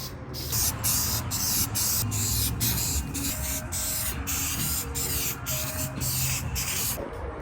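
Spray paint being applied in coats to a car part, a loud close hiss pulsing in rapid regular bursts over a steady background, with no talking.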